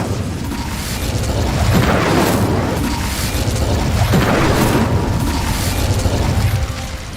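Incendio fire spell cast in the video game Hogwarts Legacy, a loud, sustained roaring burst of flame with rumbling booms that swell and pulse for several seconds, heard alone.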